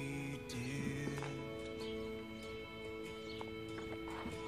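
A horse's hooves clop in a few slow, uneven steps as it walks up to a mounting block at a stable, faint and mixed with a low background hum.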